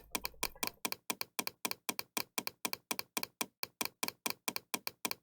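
A computer mouse is clicked over and over while running a Scratch program, giving about twenty-five sharp, evenly spaced clicks close to the microphone with silence between them, after a brief faint hum at the start.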